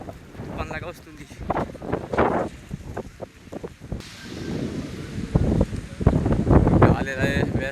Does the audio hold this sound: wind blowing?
yes